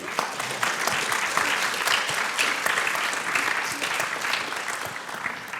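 A conference audience applauding, steady dense clapping from a large crowd that continues throughout at an even, moderately loud level.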